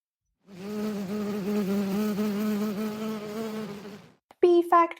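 A honeybee buzzes close by in a sustained, steady drone lasting several seconds, then breaks off, followed by a brief higher buzzing burst.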